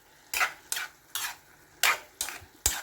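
A utensil stirs sautéed winged beans with minced beef and oyster sauce in a pan, making six separate scraping strokes at a steady, unhurried pace, close and fairly loud over a quiet sizzle.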